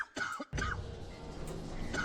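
A couple of short, rough coughs from a video game character in quick succession, followed by a steady low background hum.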